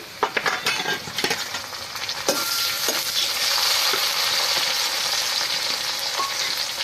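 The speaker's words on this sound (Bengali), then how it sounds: "পেঁয়াজটা খুব একটা বেশি ভাজবো না একটু কাঁচা কাঁচা ভাব থাকবে" Chopped onions and green chillies fry in a pan for a village-style Bilati fish recipe. A few quick utensil clatters come first, then a loud, steady sizzle swells and continues with occasional stirring knocks.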